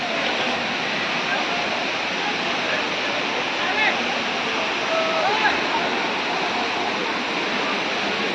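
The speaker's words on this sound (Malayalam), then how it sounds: "ഇത് വെള്ളച്ചാട്ടത്തിൻ്റെ മുകൾ ഭാഗം കേട്ടോ" A steady, unbroken roar of rushing water, loud and close, at the top of the Anachadikuthu waterfall in Kerala, pouring without pause.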